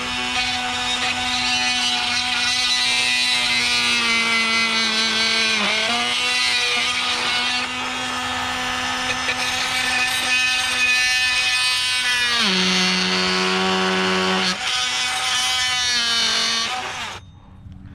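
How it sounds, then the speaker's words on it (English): An oscillating multi-tool saw cuts through a wooden 2x4 rafter with a loud, close, steady buzzing whine. The pitch drops twice under load, and the tool cuts off abruptly at the end. "So I'll grab the oscillating saw"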